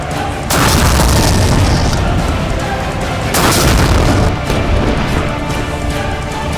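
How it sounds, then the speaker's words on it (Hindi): Rocket launcher fired at a range, giving a massive sustained boom with a long roaring rumble that swells again midway, loud and close with no talk. "मैंने कभी किसी खातून को ये रॉकेट लॉन्चर फायर करते नहीं देखा"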